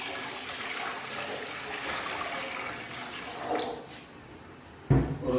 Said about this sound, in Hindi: उसमें तकरीबन जो है वो 3 लीटर जो है वो पानी शामिल करेंगे,